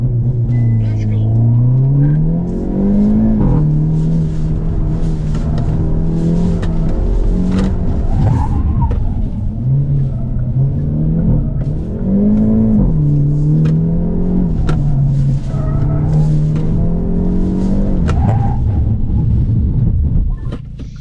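Hyundai Elantra N, a front-wheel-drive performance car, driven hard on a track in Korea: a loud engine drone rises and falls through repeated revs and shifts, steady throughout, with someone talking over it.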